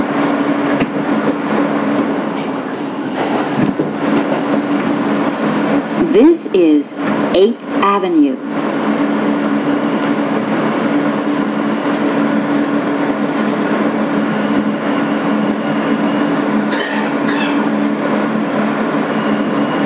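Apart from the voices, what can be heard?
2008 Kawasaki R-160B N subway train running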